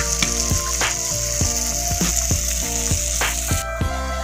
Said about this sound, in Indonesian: start goreng sekarang ya